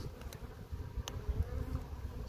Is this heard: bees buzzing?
yes